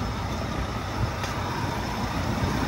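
A truck hauling an empty trailer pulls out on a late night in heavy snowfall, giving a steady, loud broadband engine and road rumble that continues unbroken with no talk.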